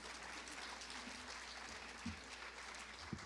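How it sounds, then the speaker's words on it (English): Audience at a lecture event applauds, a soft, steady wash of distant clapping with a few sharper claps standing out. "Another round of applause for my new friend"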